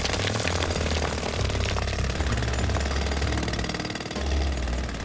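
A jackhammer runs on a construction site in a Bob the Builder cartoon. The pounding is loud and continuous, rattling and hammering steadily without pause for the whole stretch.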